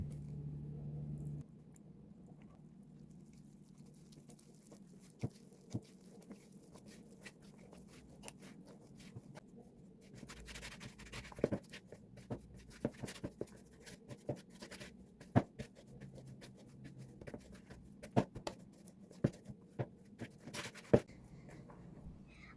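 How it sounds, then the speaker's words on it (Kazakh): Hands knead soft dough on a surface, quiet squishing and rubbing with scattered sharp taps and scrapes at an irregular rhythm throughout. "қолмен жұмсақ қамыр илейміз."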